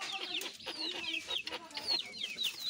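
Caged desi chickens cluck steadily and close up, several birds overlapping in short, busy calls throughout.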